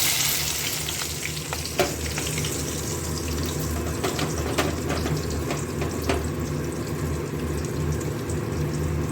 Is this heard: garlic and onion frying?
yes